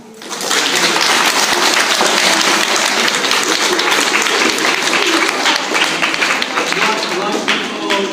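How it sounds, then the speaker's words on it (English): A group of children applaud at the end of an afternoon school session, with steady, dense clapping filling the room and holding strong for several seconds after a quick start. "Give yourselves a clap."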